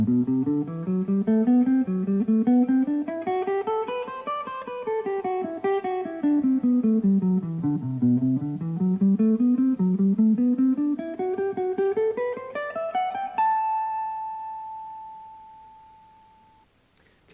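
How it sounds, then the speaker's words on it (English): An electric guitar runs an A Dorian mode exercise at a slow, even pace, notes climbing and falling in smooth waves, then settles on one final note that rings out and fades, loud and clear with no talking. "Okay, this is a Dorian mode exercise."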